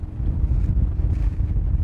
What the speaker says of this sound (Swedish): nu blåser det lite mer va?